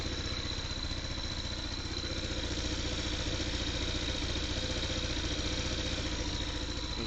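An engine idles steadily at close range, a continuous even rumble with a light mechanical clatter running through it for the whole stretch, with no voices over it.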